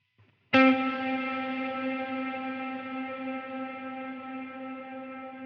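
A single electric guitar chord is struck once and left to ring through a Line 6 Helix hall reverb, its long, even decay lingering loudly for about five seconds with no voices.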